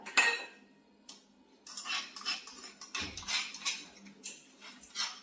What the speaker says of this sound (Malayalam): ഇനി നമുക്ക് ഈ ചെറിയ പ്ലേറ്റിലോട്ട് ഇതിടാം